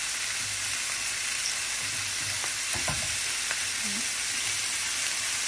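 Scallops and noodles sizzle steadily in a frying pan, a loud, even hiss with a few soft clinks of stirring partway through.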